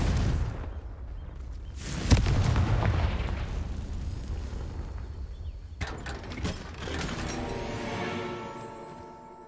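A Confringo blasting spell goes off in Hogwarts Legacy: a sharp booming blast followed by crackling, rumbling debris, then a second burst with ringing, mechanical clanks and tonal shimmer trailing off.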